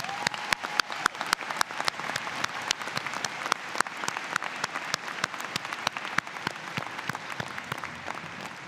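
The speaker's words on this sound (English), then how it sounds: "Let's just give them one more round of applause" Audience applause at a convocation ceremony, a steady sustained clapping from a large crowd with no talking over it.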